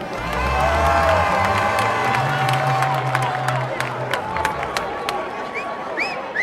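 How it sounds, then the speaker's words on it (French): A crowd cheers, shouts and claps together for a young man, loud and dense at first and then easing off a little, with children's voices and whoops rising above the noise. "Applaudissez pour lui."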